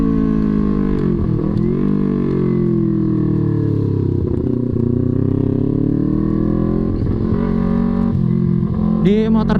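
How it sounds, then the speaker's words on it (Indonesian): A Kawasaki Ninja ZX-636 sport motorcycle engine drones steadily up close, with rising and falling harmonic tones as revs shift and a brief sweep near the end. "Nah ini motor Ninja kedua gue."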